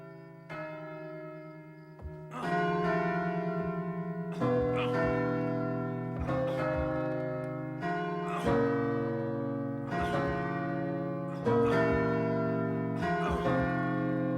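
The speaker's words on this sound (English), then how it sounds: "Bells." Church bells ring out loudly, struck repeatedly in a slow, steady rhythm about every second and a half, each rich metallic toll lingering and overlapping the next over a low sustained hum.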